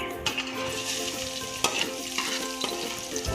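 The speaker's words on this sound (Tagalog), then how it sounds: "Second procedure is saute the garlic." Garlic sautés in hot cooking oil, sizzling and crackling loudly and steadily up close, with a few scraping stirs of a utensil against the pan.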